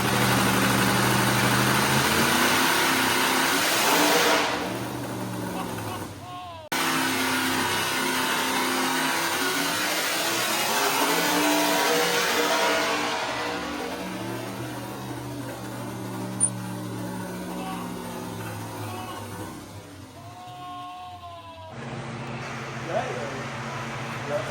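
A boosted truck engine, the Mississippi Queen, runs hard on a dyno with loud sustained mechanical roar and rising revs, a brief dropout near seven seconds, then easing off toward the end; voices talk over it.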